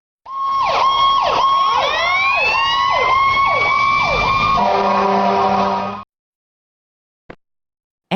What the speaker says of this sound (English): fire engine,